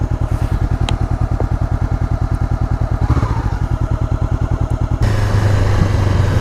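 A Honda CBR500R motorcycle engine running close and loud, with a steady rapid pulsing beat and a rougher, shifting note near the end.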